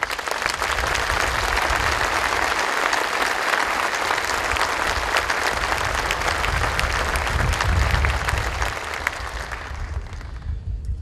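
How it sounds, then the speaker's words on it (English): An audience at a national cemetery dedication ceremony applauds veterans with long, loud, continuous clapping from many hands, steady throughout before tapering off at the very end. "A round of applause for all of our veterans."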